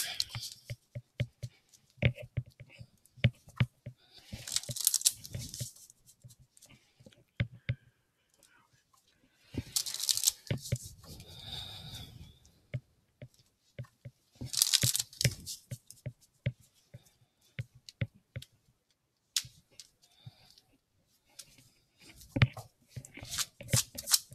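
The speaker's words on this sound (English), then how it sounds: "I'm going to pull a card from the Romance Angels Oracle deck by Doreen Virtue" Oracle card deck (Romance Angels) being shuffled and cards pulled, giving soft riffling bursts and scattered clicks and taps in a quiet room, with gentle pauses between handling.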